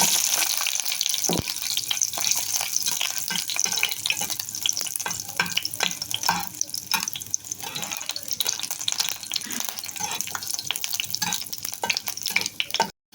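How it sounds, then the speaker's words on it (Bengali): Continuous crackling and sizzling of four garlic cloves frying in hot oil, steady and close, with occasional small clicks and stirs. "চারটি রসুনের কোয়াও ভেজে নেব"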